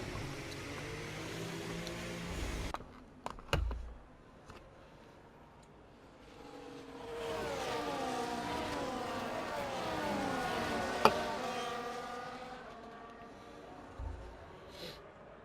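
Race cars circle the Interlagos circuit behind the safety car, their engines droning at moderate, steady speed, rising to a louder sustained pass in the middle before fading, with brief bursts of commentary.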